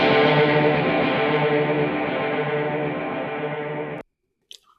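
A distorted electric guitar chord through a Kemper Profiler, with tremolo and delay in swapped order, sustains loud with a fast, shallow wobble and delay wash, then stops abruptly, leaving silence and a faint click.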